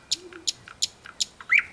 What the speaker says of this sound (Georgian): ბულბული როგორ გალობს ბავშვებო?